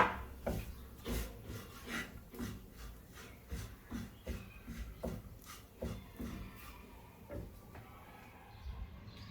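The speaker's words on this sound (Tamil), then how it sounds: "இறைச்சியையும் போட போகிறேன். போட்டு மிக்ஸ் பண்ண போகிறேன்." Beef is stirred into sambal in a pan with a steady rhythm of scraping, knocking strokes, roughly two per second, close by and fairly quiet, with no talk over them.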